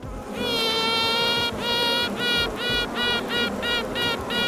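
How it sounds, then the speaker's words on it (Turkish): A series of pulsed, tonal buzzing toots from a newly emerged queen honeybee piping, a long note followed by several shorter repeated pulses, loud and close over a hive hum. "Yeni kraliçe bu özel sesle kovana varlığını duyuruyor."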